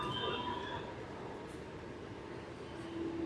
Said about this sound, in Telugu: ఏదో లోకల్ ట్రైన్ వస్తుంది, మరి అది ఎటేపు వెళ్తుందో